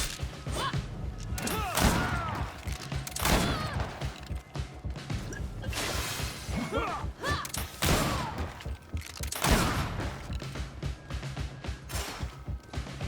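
Gunfire and combat impacts from the video game Greedfall, with repeated sharp bursts, crashes and thuds spread across a busy, loud battle mix and no talk.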